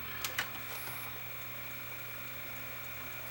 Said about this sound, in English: That grinding noise sounds like the capstan motor bearing is dry.